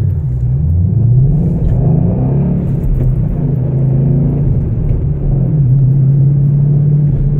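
A Ford Mustang with a six-speed manual gearbox heard from inside, its engine holding a loud, steady droning rumble that rises and falls slightly in pitch, with no talk over it.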